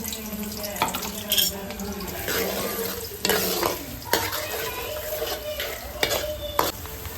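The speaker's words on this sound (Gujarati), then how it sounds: "આપણે તેલ ગરમ થવા મૂકી દીધું છે, એમાં આપણે મીડિયમ સાઈઝની ડુંગળી નાખી દઈશું" Medium-sized onions sizzle in hot oil for dum aloo, a continuous close crackle broken by several louder bursts of stirring and clinks of a utensil against the pan.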